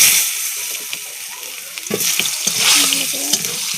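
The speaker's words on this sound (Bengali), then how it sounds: "জিরে ভাজা হয়ে গেছে," Cumin seeds and a dried red chilli frying in hot oil in a home kitchen pan, a steady close sizzle with scattered crackles and pops, with stirring scrapes, no talking.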